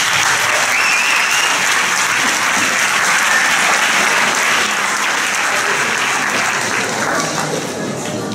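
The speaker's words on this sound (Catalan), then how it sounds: "Un fort aplaudiment, sisplau." A school audience gives loud, sustained applause for a Christmas carol choir performance by upper-primary pupils, dense clapping filling the whole stretch and tapering slightly at the end.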